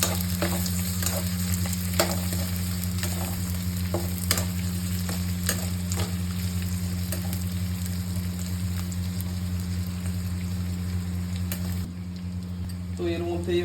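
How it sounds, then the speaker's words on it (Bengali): Chopped garlic and ginger sizzle steadily in a hot frying pan as a spatula stirs and scrapes with frequent light clicks, under a constant hum, with a voice speaking over the cooking. "এর উপর দিয়ে দেবো আমরা রসুন কুচি আর আদা কুচি, এগুলোকেও নাড়িয়ে নেবো"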